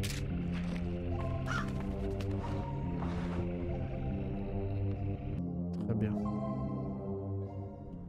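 Harsh, repeated cawing from a crow in the horror video game Crow Country, sounding over a steady low droning tone, with a voice speaking at moments.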